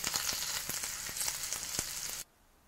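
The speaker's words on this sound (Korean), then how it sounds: "조그맣게 잘라서 구워준 겁니다" Low-salt pollock roe cut into small pieces and frying in a pan, a steady close sizzle with soft crackles that stops abruptly near the end.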